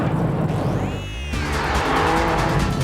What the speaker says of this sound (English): what a beautiful power slide